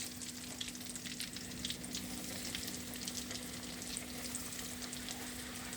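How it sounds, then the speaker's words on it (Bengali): Chicken pieces fry in hot oil, KFC style, giving a steady, dense sizzle that holds evenly throughout, close and fairly loud with no talking. "এভাবে আমরা ভেজে নিব। আমরা অপেক্ষা করি ভাজা পর্যন্ত।"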